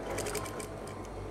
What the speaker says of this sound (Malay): Kita jahitkan dia lebar lebih kurang 1 inci.